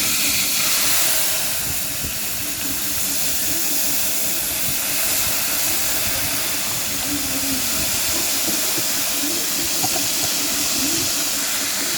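Vinegar is poured into a pan of green mango pickle, producing a loud, steady steaming hiss that fills the whole stretch, with a low rumbling undertone and no voices.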